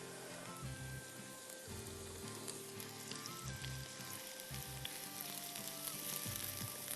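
Chopped onions frying in oil to brown, a quiet, even sizzle crackling along underneath a low steady hum, with no clear breaks.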